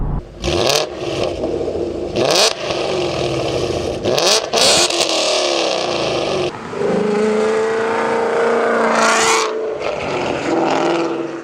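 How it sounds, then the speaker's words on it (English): A Coyote 5.0 V8 in a Ford Mustang with full exhaust revs repeatedly, roaring up and dropping back in bursts, then holds a rough, rumbling idle between blips. "So here's a few clips of a Coyote Mustang. This is my Mustang. I had full exhaust on it."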